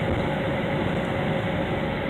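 A train rumbles past on nearby tracks beside an RV park, a steady broadband roar that holds loud and unbroken throughout with no voices.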